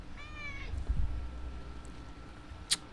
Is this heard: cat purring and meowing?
yes